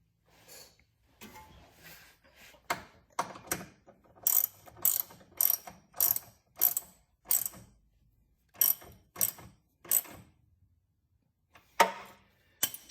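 A ratchet wrench snugs up front lower control arm bolts on a BMW E46, its close, sharp clicking coming in repeated bursts of rapid pawl ticks with short pauses between, and no talking.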